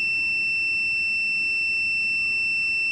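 A multimeter's continuity tester held on a live circuit path while checking an Astron 45-inch Smart TV with no power, sounding one steady, high-pitched continuous beep that fills the whole moment, loud and alone.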